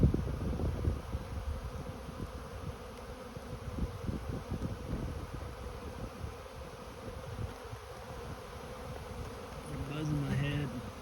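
Honeybees swarm around a hive just after a September honey harvest, a dense, continuous buzzing close by with individual bees droning past near the ears, loud throughout.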